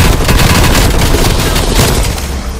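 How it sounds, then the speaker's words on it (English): A stun grenade bursts in Black Ops Cold War Zombies on the Firebase Z map, a loud dense blast mixed with continuous heavy gunfire throughout. "Stun grenade."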